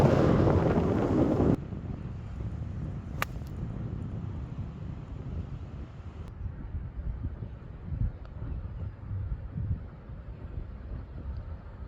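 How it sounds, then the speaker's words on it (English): Wind on a golf course: a strong gust buffets the microphone at first, then gives way to a low, fluctuating rumble of moderate wind that continues throughout, with no voices. "but it is windy"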